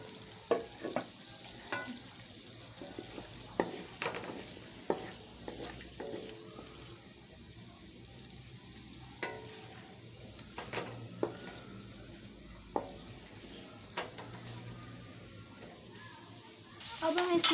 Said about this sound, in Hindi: और इसको आधे मिनट के लिए हम फ्राई करेंगे